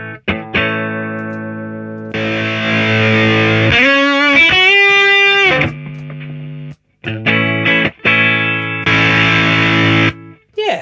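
An electric guitar plays through the distortion of a TC Electronic Nova System effects unit, producing loud, sustained overdriven chords and a bending lead phrase, with brief gaps between the strummed passages.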